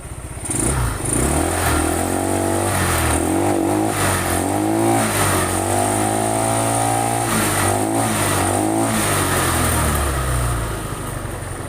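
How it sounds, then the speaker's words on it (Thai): An old Yamaha Mio scooter engine, with a charging fault and stumbling, revs repeatedly nearby, its pitch climbing and falling in several surges over a steady idling rumble. "ผมจะลองเร่งเครื่องดูนะครับ"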